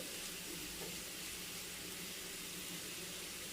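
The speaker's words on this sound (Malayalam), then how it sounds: "ലോ ഫ്ലെയിമിൽ വെച്ചാൽ മതി പാവയ്ക്ക ഓൾമോസ്റ്റ് ഫ്രൈ ആയി വന്നിട്ടുണ്ട്" Bitter gourd frying on low flame in a pan, a soft steady sizzle with faint broadband hiss running evenly throughout, quiet and continuous with no talk.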